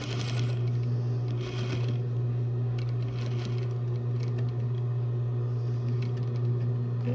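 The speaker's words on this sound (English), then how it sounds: "We're just edge stitching the pocket right now." A sewing machine hums steadily while edge stitching close to the edge of a jeans back pocket, a constant near motor drone with faint rattling needle clicks.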